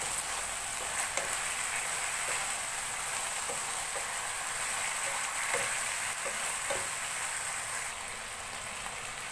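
Bottle gourd (upo) being sautéed in a pan gives a steady, even sizzle and frying hiss, with faint stirring scrapes now and then and no voices.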